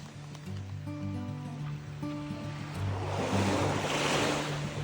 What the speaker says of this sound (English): Beautiful, beautiful, calm sea.